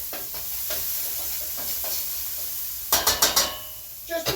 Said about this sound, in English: we're going to go in with the shallots first. We're going to give these a quick saute.